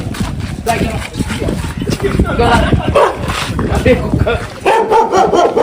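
A dog barks several times close by in a lively outdoor scene, its sharp barks mixed with people talking and calling out over it.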